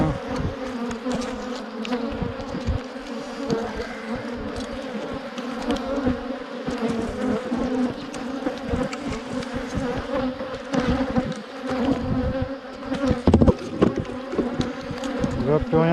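A honeybee colony hums loudly at its hive, a dense, continuous buzz that swells and flickers as individual bees pass close by, with no voices over it.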